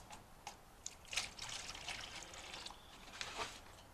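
Deionized water poured onto dry sphagnum moss while repotting a Nepenthes pitcher plant: a soft, close trickle with splashy bursts that swell and ease over a few seconds.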